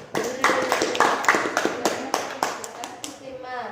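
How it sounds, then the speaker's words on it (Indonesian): A classroom group gives brief applause, a burst of scattered hand claps of moderate loudness that thins out over a few seconds while voices talk alongside. "beri tepuk tangan untuk kelompok 1 dulu"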